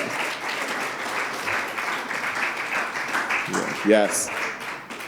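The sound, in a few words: audience applause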